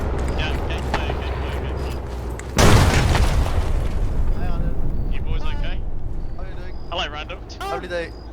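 A suicide truck explodes in a World War II video game set in Manchuria: a sudden loud, close boom with a rumbling tail that rises out of steady engine noise, while voices shout and talk over it.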